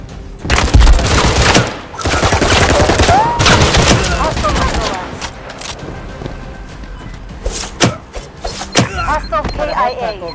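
Shotgun fire in the video game Firewall Zero Hour, a loud run of sharp blasts and bursts with booming tails, several shots clustered early and more scattered later, mixed with game effects and a voice.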